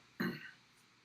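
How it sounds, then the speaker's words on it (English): A single short, throaty clearing of the throat, close and brief, followed by near silence. "just clear my throat over here"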